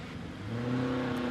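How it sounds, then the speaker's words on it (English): A pre-1941 racing car of 1101cc to 1500cc accelerates away at a hill climb, its engine note rising in pitch and growing louder as it pulls through the gear, heard alone. "the Octane sponsored Class 14, pre-1941 racing cars, 1101cc to 1500cc."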